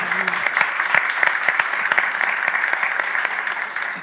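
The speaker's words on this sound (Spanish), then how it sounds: "Les pido un fortísimo aplauso para nuestras 3 líderes" Loud, close applause from a conference audience after a real estate leadership panel, with many hands clapping in a thick, even patter that carries on without a break and eases off slightly at the end.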